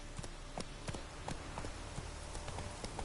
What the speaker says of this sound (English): I got a new horse